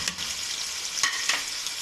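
Chili paste and spices sizzle in hot oil for a chicken and mixed vegetable dish, a steady hiss close up with a couple of brief scraping stirs.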